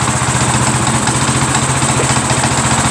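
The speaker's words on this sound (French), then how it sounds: "vous entendez, vous voyez qu'il tourne avec un beau ralenti" A lawn tractor engine idles smoothly and steadily up close, a loud, even putter with a constant low throb and no changes in pace.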